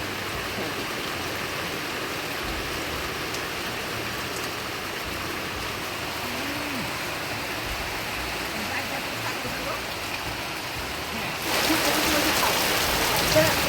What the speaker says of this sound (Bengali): আর এই যে এরকম বিকাল হইতে হইতে এরকম বৃষ্টি, আর বৃষ্টির মধ্যে স্নান করতে সেই মজা।